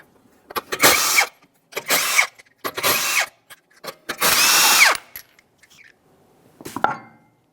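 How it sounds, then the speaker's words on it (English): Five 21mm lug nuts come off the front wheel of a 2010-2013 Kia Forte Koup under a power impact tool. The loud whirring bursts come in separate repeated runs with short pauses between, and no voice is heard. "To remove the front wheel, you'll find that you have 5 21mm lug nuts."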